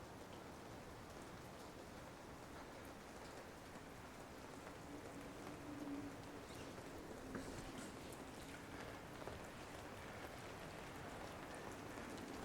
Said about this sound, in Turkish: kuşların ve yağmurun sesi bana gayet güzel geliyor